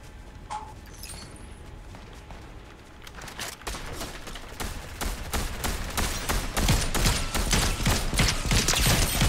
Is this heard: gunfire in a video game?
yes